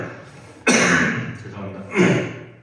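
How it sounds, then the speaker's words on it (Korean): Two harsh coughs burst out close by, about a second apart, with rough breathing between them, from a pastor during a church service. "아직도 이렇게 호흡을 하면 기침이 그냥."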